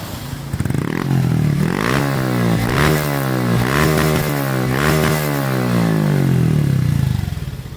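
A Royal Enfield motorcycle's modified open exhaust revs hard at full throttle, close and very loud, with several sweeping surges rising and falling in pitch.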